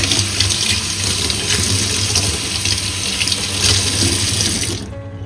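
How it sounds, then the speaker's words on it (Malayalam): A water tap runs loud and steady into a sink while a gold chain is washed in curd, a continuous close rushing flow that cuts off abruptly at the end. "ആ തൈരോടെ തന്നെ ഒന്ന് കഴുവാം"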